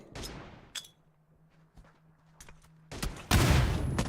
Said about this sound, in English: Several teams were shooting over